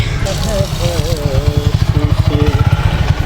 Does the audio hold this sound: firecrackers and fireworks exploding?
no